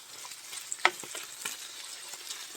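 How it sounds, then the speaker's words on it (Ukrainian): Wild forest mushrooms frying gently in a pan, a soft sizzle with a sharp utensil clink and a few light stirring scrapes. "Так, гриби потихеньку підсмажуються тут."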